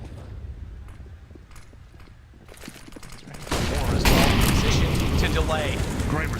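A grenade bursts in CS:GO during an IEM Katowice 2019 esports semifinal: scattered gunfire first, then a loud, sustained explosive roar midway that lingers, with voices talking over it.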